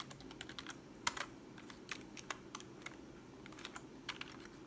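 Typing on a computer keyboard during setup of an iMac G3: soft, irregular key clicks tap along quietly and close by, with a few sharper strokes and no voices.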